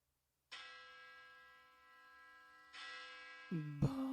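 A bell rings with a long, sustained metallic tone that fades slowly, then strikes again, followed by a brief clatter and a louder final ring.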